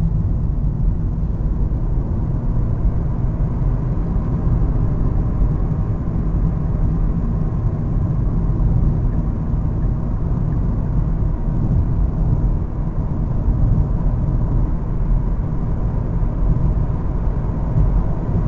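A Hyundai Ioniq Electric drives along with a constant low road and tyre rumble and a faint whir, steady and unbroken for the whole stretch, with no one speaking.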